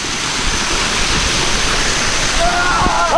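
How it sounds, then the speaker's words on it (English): A waterfall in Iten, Kenya roars as a loud, steady rush of falling water heard up close, with a faint voice cry near the end. "Let's get in the waterfall."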